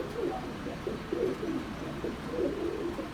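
Pigeons coo softly and repeatedly in a loft of caged birds for sale, low rounded calls rising and falling over a quiet background hum.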